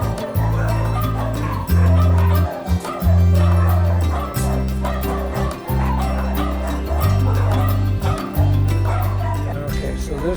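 A dog barks loudly and repeatedly in bursts, breaking now and then into higher yips and whimpers, with a busy, noisy indoor background running underneath.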